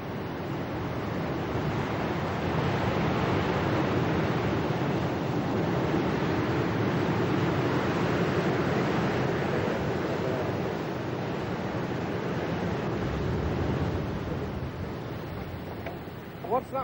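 Surf and waves in the harbour at Aberavon, heard as a continuous broad roar of water with wind buffeting the microphone, steady and loud for the full length.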